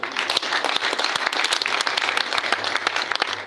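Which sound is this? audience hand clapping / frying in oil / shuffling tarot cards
audience hand clapping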